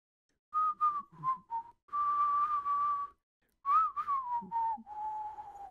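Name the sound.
person whistling a movie theme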